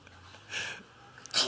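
A single short, sharp sneeze from a girl bursts out at the very end, after a quiet stretch of faint background noise.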